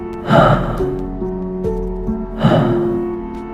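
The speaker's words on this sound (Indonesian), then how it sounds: "Suara napas pelan, lepas dalam." Slow, deep breaths in a horror tale, two long airy inhalations or exhalations rising and fading, close and loud over a low droning background tone.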